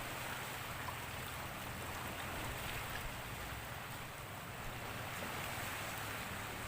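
Seaside spring water flowing like a small stream, a steady broadband wash of running water holding constant throughout with no voices.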